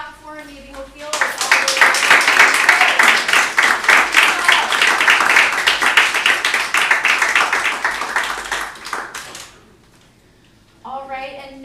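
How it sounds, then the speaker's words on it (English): A live audience at a poetry reading in San Marcos, Texas claps loudly for about eight seconds after a poem, a dense close burst of applause that fades out, with a voice talking briefly before and after. "Let's clap for him."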